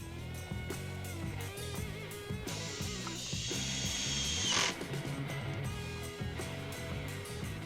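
Screws being driven into a Husqvarna string trimmer during reassembly, with a power driver whirring in short close bursts, one longer high-pitched run, and ratcheting clicks in between.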